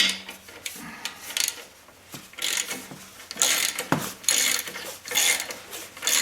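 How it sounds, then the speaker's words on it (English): A 13 millimeter socket wrench ratchets on a bolt during a belt change on a DC 1260 machine, giving close, repeated bursts of rapid clicking and rasping strokes with short pauses between them. "Well, I got out my socket and it is a 13 millimeter."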